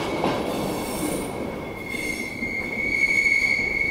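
Train wheels squeal steadily in a long, sustained high whine as a slow train rolls along a Romanian railway line, with a low rumble of the cars underneath and no voices.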